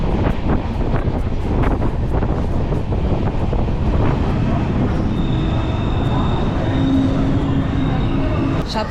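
A passenger train on the Howrah to Digha line rumbles along with steady rail clatter and heavy wind rush. A faint tonal whine rises later in the run.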